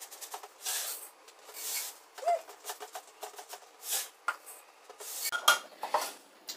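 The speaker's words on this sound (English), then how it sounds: "And then you want to measure out 3 cups of oatmeal" Scooping three cups of oatmeal into a bowl: a soft, intermittent series of scrapes, taps and rustles from a measuring cup against the bowl, close and fairly quiet, with irregular pauses between scoops.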